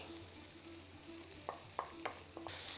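A spoon stirs yoghurt into a Mughlai-style curry, giving a faint, steady sizzle with a few soft scraping clinks against the pan and a brief rise in sizzling near the end.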